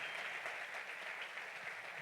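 A church congregation applauds during a sermon, many hands clapping in a continuous, somewhat distant and soft wash that stays even from start to finish.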